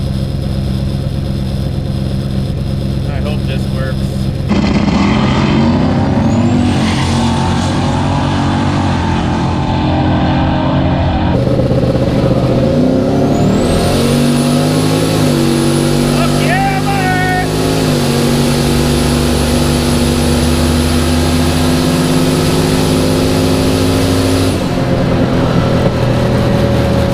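A loud drag car engine on a two-step launch setup in first gear holds a hard, sustained roar, its pitch climbing around the middle, close by and continuous.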